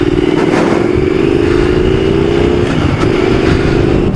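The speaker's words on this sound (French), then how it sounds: "C'est dommage, l'échappement ne chante pas." A Triumph Thruxton R motorcycle engine and exhaust run in a loud, close, steady drone with a low rumble throughout and a faint clattery edge.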